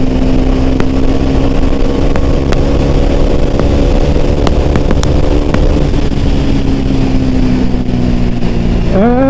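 A 2018–2019 Bajaj Dominar motorcycle engine pulls hard in fifth gear, a loud, sustained drone with steadily shifting pitch and wind rush, heard close and continuous.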